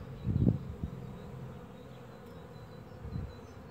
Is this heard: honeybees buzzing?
yes